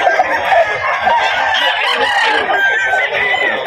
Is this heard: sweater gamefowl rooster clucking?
yes